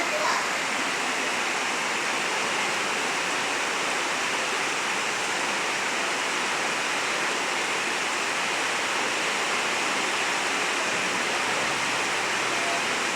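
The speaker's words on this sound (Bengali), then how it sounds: "প্রচণ্ড বৃষ্টি" Heavy rain pours outside a window in a dense, constant hiss that stays loud and unbroken all the way through, like a steady downpour with no distinct drops.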